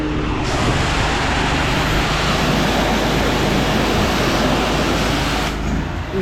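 Pressure washer spraying through a wash jet tip while cleaning siding, a loud steady hissing water blast held at full force with no pause.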